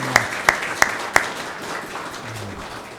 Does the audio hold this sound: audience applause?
yes